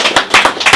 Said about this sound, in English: I think we need to put our hands together and give her a lofty round of applause